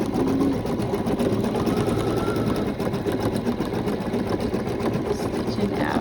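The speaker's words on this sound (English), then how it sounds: "Stitching out the front part of the unicorn" An embroidery machine stitches a unicorn design onto a shirt with a continuous close, busy mechanical hum and rattle that holds steady throughout, with no talking.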